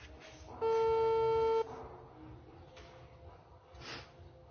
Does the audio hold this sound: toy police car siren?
no